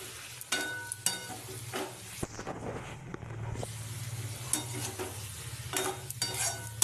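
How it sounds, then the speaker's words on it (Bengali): Spiced masala being stirred and fried for a thin hilsa fish curry with brinjal, a steady sizzle broken by a louder scrape around the middle, with no talking. "মশলা দিয়ে ঢাকা দিয়ে দিয়ে কষাতে হবে"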